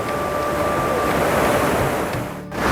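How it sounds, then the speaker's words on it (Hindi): The Parvati river flows beside Manikaran Gurudwara, a continuous loud rush of water that stays steady throughout, then dips briefly near the end. "इस गुरुद्वारे के बराबर में बहती है पार्वती नदी"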